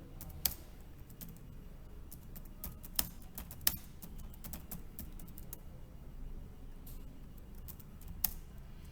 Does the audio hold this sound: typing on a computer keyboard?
yes